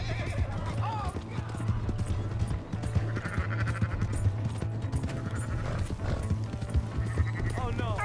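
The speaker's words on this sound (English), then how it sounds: "Hey, that's my horse!" A horse in the Red Dead Redemption video game, its hooves clip-clopping steadily and neighing over a continuous game mix with music, voices speaking now and then.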